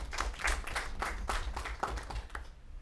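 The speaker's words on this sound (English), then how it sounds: "I believe that we have to give him the round of applause for this." Audience at a press conference on housing projects giving a round of applause, a short burst of rapid, fairly soft clapping from a modest group that tapers off quickly.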